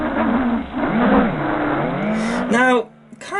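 Motors of an FPV drone revving, picked up through the audio channel of a FuriousFPV Stealth Long Range 700mW video transmitter, a loud, wavering engine-like whine sweeping up and down in pitch before cutting out briefly near the end.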